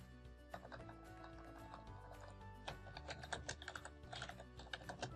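Quick, light clicking of typing on a computer keyboard, irregular keystrokes in bursts, faint and close, with no talk.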